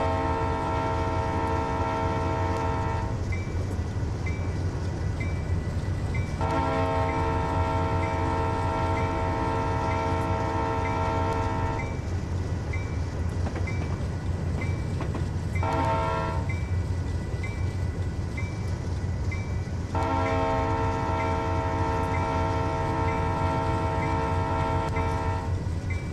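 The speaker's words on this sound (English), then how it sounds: "Got another train approaching from in front." Freight train of boxcars rolling past in a Train Sim 2015 night run, a steady loud rumble of wheels on rail with a horn sounding in several long blasts separated by short gaps.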